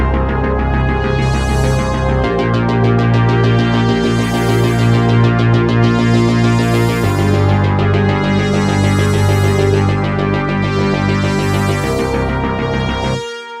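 Moog mono synth bass layered with an ARP 2600 pad, a loud sustained electronic passage where the bass shifts pitch in long steady blocks under a bright chordal pad, with rhythmic swells on top.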